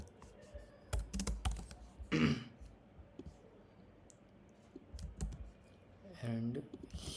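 Keys clatter on a computer keyboard as code is typed, in uneven bursts of clicks with pauses between, fairly close and moderately loud; a few soft vocal sounds occur.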